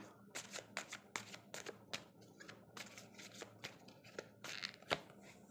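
Tarot cards are shuffled and drawn by hand in a quiet room, giving a series of soft, crisp riffling and snapping flicks at an irregular rhythm. The sounds are close and faint.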